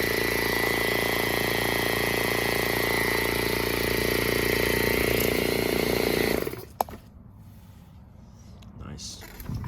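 A vintage 1948 Spray Master air compressor and paint sprayer motor runs with a loud, steady hum for about six seconds, then cuts off, leaving quieter room tone and a brief click.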